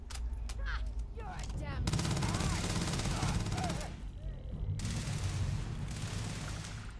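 Rapid gunfire from an old Earth pistol in Starfield: dense volleys of sharp shots over constant background game noise, with pings and ricochet-like chirps between the blasts.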